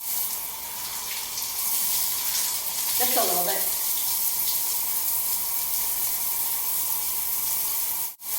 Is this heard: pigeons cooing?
no